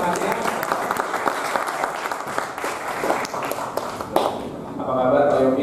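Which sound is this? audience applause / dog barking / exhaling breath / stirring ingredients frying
audience applause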